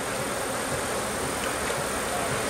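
Steady buzzing of honeybees around an open hive during a frame inspection, a continuous close hum with no voices and a brief sharper sound at the very end.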